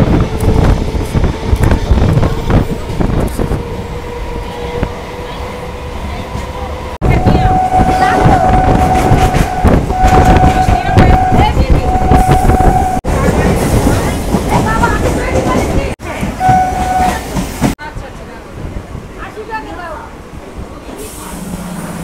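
Passenger train bound for Hasnabad running on the line past Basirhat, a steady loud rumble of wheels and carriage with wind noise, interrupted by several abrupt cuts and occasional tonal squeals.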